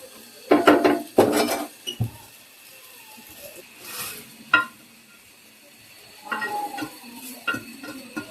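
Noodles and eggs get stirred in a pan, with scattered clattering scrapes and knocks of the utensil against the pan in short bursts over a soft sizzle, with no talking.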